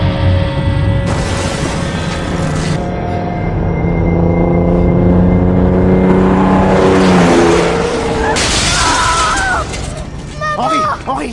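A truck bears down in a film car crash scene, its engine roar and horn swelling under a loud, dense mix, with a burst of noise near the end and voices shouting over it.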